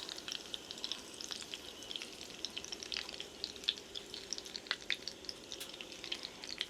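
Minced meat sizzling and crackling steadily in a pan at a winter campsite, a continuous dense frying hiss with scattered pops, close and fairly quiet, no voices.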